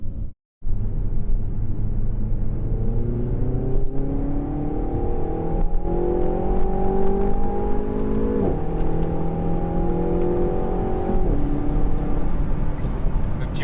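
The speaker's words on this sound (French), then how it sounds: "L'échappement il sonne correct." Inside a moving Renault Megane IV RS facelift, the exhaust and engine drone steadily and rise in pitch under load, with a couple of clear shifts breaking the climb.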